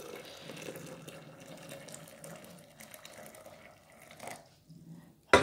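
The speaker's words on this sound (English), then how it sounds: "hoping that it won't snap when I add hot water to it" Hot water is poured into a glass vase, giving a soft, steady trickle and splash that runs for several seconds before a sharp clink at the end.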